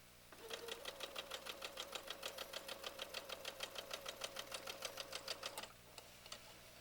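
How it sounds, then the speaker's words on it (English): A sewing machine stitches a seam in an even, rapid run of needle strokes for about five seconds, close and moderately loud, then stops with a couple of faint clicks. "And continue sewing."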